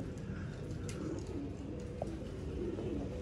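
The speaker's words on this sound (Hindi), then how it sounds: "ये हैं जी, ये टुनियन चूहा कबूतर है।" Old Sialkoti pigeons, a long-kept breed from a household loft, coo in low steady murmurs at close range over a continuous dense background of flock noise, with a few faint higher chirps.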